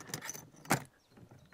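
Two keys for a lockable motorcycle top box on a Triumph Tiger 900 jangle close by in a couple of short metallic shakes, with one sharp clink in the middle and quiet around it.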